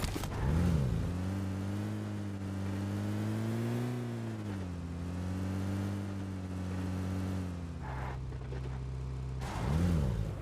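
A vehicle engine in PUBG Mobile revs and drones close by, its pitch rising and falling as it accelerates, with sharper revving surges at the start and end.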